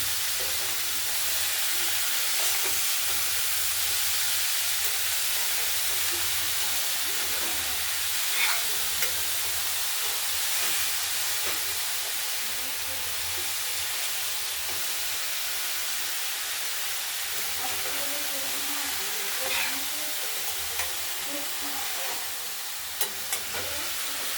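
Potato pieces and chopped cauliflower frying in oil in a wok, giving a steady close sizzle and hiss throughout, with occasional soft scrapes of stirring.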